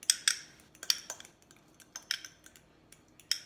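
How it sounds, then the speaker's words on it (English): A utensil clinks and scrapes against a bowl while stirring a coconut oil mixture, producing sparse irregular taps and clatters, close and fairly quiet. "I'm going to go ahead and kind of mix those together"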